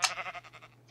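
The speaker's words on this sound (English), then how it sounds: "Oh, sheep." A single short, wavering bleat from a sheep in the Minecraft video game, clear and close, fading away within a second, with no talking over it.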